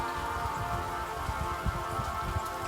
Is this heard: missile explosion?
no